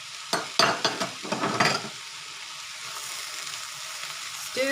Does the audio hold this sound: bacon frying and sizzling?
yes